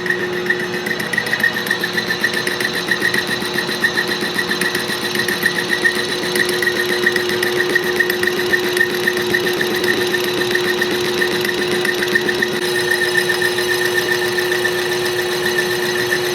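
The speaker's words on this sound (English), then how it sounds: "So let's get over here and see what Dad's doing on the lathe." A metal lathe runs steadily in a fabrication workshop where a car's 4-link suspension is being built into the frame. It gives an even mechanical hum with a high whine, continuous and moderately loud throughout, with no talking.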